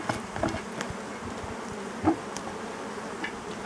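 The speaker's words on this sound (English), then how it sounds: "See, the bees get all freaked out." Honey bees buzz in a soft, continuous drone nearby around a smoked beehive, with a few light knocks and clicks scattered through it.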